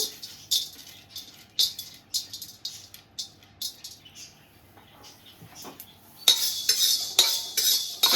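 Whole spices such as cumin, mustard seed and fenugreek being dry-roasted and stirred in a pan for Mangalore-style chicken sukka masala, with repeated light metallic scrapes and rattles of a spoon, growing louder and busier near the end.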